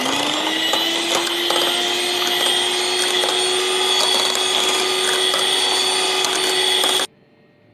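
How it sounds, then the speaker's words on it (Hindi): Electric hand whisk beating condensed milk into an orange ice cream base, a steady loud motor whine with a buzzing tone that runs continuously for about seven seconds before cutting off abruptly. "अब इसमें डालेंगे कंडेंस मिल्क, अब इसको विस्क करेंगे।"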